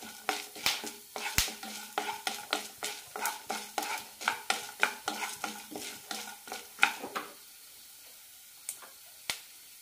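Lentils and cumin fry in hot oil as onion goes in for a cabbage chutney. A spoon scrapes and stirs in quick, rhythmic strokes over a soft sizzle, then slows to a few sparse knocks near the end.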